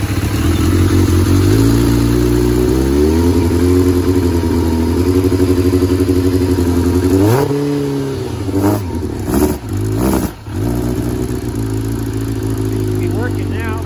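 A 1990 Kawasaki Ninja ZX7 H2 motorcycle engine runs near and loud after restoration, idling with steady rumble before several sharp revs and throttle blips, with someone speaking briefly.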